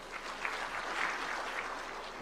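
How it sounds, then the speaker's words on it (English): An audience at a Kenyan political rally with the President in Murang'a claps steadily, a dense, even burst of applause lasting a couple of seconds. "the audience also welcome that with a clap"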